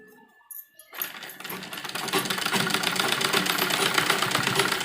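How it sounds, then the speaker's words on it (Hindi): A sewing machine runs a seam joining the sleeve and body of an embroidered net blouse for a lehenga. It starts after a short pause and then whirs steadily and closely, with a fast mechanical chatter and no talk. "और यहाँ बीच में सिलाई लगाएंगे।"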